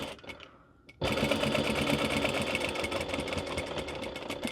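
A sewing machine stitches a seam through a minky blanket. After a quiet second, the motor starts and runs steadily with a fast, even needle rhythm, close and loud, with no talk.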